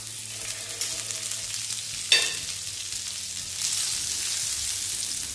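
Butter sizzling in a heating frying pan, a steady soft crackle with a brief sharper burst near the middle and a louder hiss toward the end, no voices.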